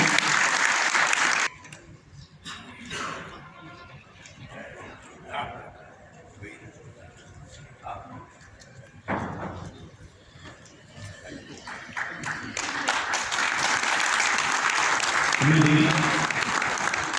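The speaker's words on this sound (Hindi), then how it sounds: "जोरदार तालियां।" Loud applause from a large audience at a book launch ceremony for a diamond merchant's autobiography, a burst at the start and a long swell building toward the end, with a speaker's amplified voice over the room in between.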